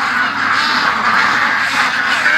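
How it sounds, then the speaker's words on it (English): Several penned ducks waiting to be let out quack loudly and close together in a dense, unbroken clamor for a couple of seconds. "Look at these ducks waiting to get out."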